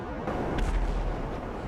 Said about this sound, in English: I heard a faint explosion